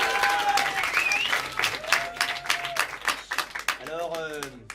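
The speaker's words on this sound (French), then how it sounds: "on peut les applaudir pour cette magnifique impro" A crowd claps and applauds steadily, with voices talking over the clapping throughout.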